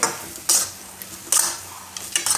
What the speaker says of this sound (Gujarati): આ રીતે બધું દૂધ મિક્સ કરવાનું.